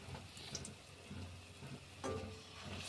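Buckwheat-coated potato balls fry in hot oil in a kadhai, giving a soft, steady sizzle with occasional faint bubbling pops and light utensil clinks, close and fairly quiet.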